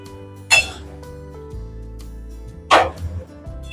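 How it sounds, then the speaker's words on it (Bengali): Bottle gourd curry being mixed in a pot, two sharp clinks of a spoon against the metal rim standing out over a low steady hum, close and brief. "এইবার এটা খুব ভালোভাবে মিশিয়ে নেব।"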